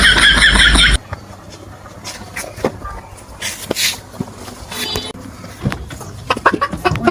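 A chicken clucks close by at the start, followed by quieter scattered rustles, knocks and faint background noise.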